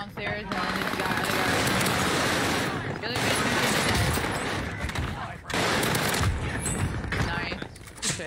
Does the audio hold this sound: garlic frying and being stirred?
no